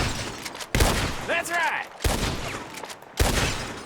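Gunfire from a shootout in the Red Dead Redemption 2 video game, with three sharp, loud shot bursts spaced about a second apart and a short spoken line in between.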